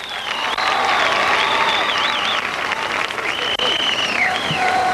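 A speedway crowd applauds a late model race winner in a steady, loud wash of clapping. A public-address voice with howling feedback rings over the applause.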